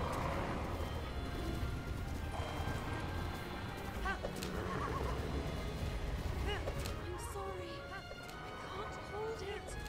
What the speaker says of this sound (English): Oh dear lord, I fell off my horse.